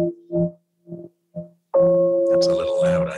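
Tonal piano notes from a piano music channel, heard as several short, soft struck notes followed by a sustained, fuller passage with rising brightness, moderately loud and alone.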